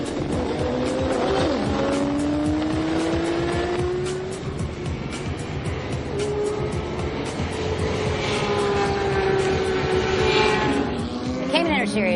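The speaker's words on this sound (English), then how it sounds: "they're all Cayman S's that have been modified and turned into race cars" Modified Porsche Cayman S race cars race on a track, their engines roaring loudly and continuously with rising and falling pitch as they pass and shift, and tyres squealing, while a voice talks over them.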